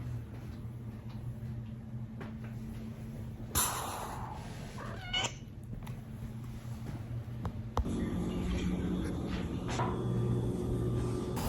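Cats meow at home against a steady low indoor hum, with a couple of brief brighter calls and small household clatters rather than continuous vocalizing; no one speaks.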